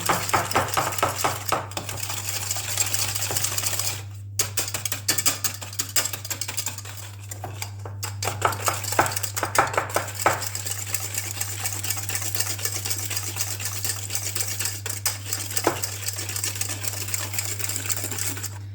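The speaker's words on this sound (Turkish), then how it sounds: "Güzelce çırpacağız. Çok hızlı olmalısın." Rapid, steady clicking of a whisk beating sugar in a bowl by hand, continuing without pause, over a low constant hum.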